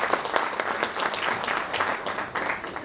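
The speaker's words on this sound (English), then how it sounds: "Please join me in welcoming and applauding Sau Rajashri Kalyan ma'am." Audience applause welcoming a speaker at a 20th anniversary celebration of an English speakers' club, steady dense clapping throughout, fairly loud and continuous with no talk over it.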